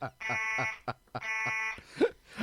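An electronic alarm effect on a radio show sounds in repeated pulsing buzzer bursts with brief gaps, loud and steady, while a voice speaks briefly near the end.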